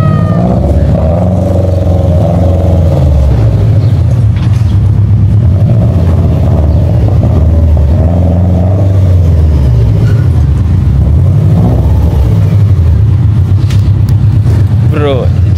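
A Subaru GC8 engine revs in a loud, rising and falling roar, with several swells over roughly fifteen seconds, close by. A person talks over the engine noise.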